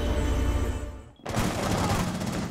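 Rapid gunfire rattles in the Rainbow Six Siege video game, first as a sustained burst, then after a brief drop as a fresh loud volley, close and dense.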